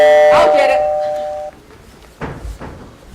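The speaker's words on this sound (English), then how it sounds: "they exit into the kitchen as the doorbell rings" A doorbell chime rings out loud and clear at the start, its tones sustaining and then fading, followed by people talking on a stage during a Hanukkah play.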